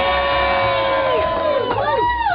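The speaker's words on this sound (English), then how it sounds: "we got a good crowd in here today" A live studio crowd at a Christmas Eve radio broadcast cheers and whoops loudly and steadily from start to finish, with whistles and shouts rising over the roar.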